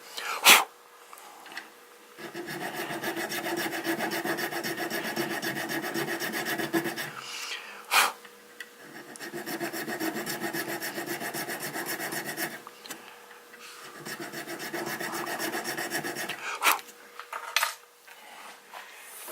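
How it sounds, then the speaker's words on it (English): A fret file rasps back and forth in a bone guitar nut, cutting a string slot in long, steady strokes. The strokes come in three or four extended runs broken by short pauses and a few sharp knocks, heard up close. "want to lean the fret file a little bit so it goes a little bit in that direction"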